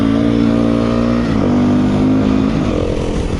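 A 2017 Beta 390RR dirt bike engine revs loudly up close, its tone climbing and dropping through gear changes as the rider accelerates, a continuous throaty buzz.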